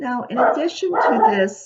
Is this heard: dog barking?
yes